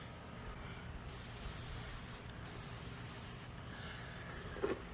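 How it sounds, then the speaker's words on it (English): Steady hiss of a WD-40 aerosol can sprayed onto trailer axle threads for several seconds, briefly interrupted, close and moderately loud. "go ahead and spray WD-40 or whatever it is you use"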